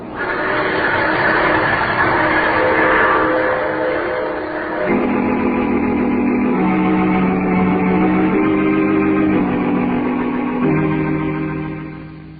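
Rumbling, droning train sound effect in an old radio drama, steady and loud with shifting mechanical tones, carrying on alone for several seconds.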